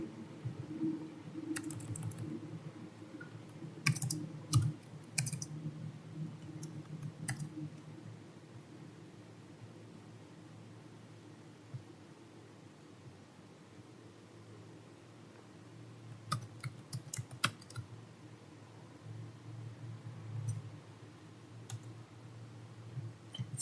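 Someone types an IP address on a computer keyboard, giving quiet, close clicking keystrokes in short bursts. There are clusters of taps early on and again near the end, with soft hum between them.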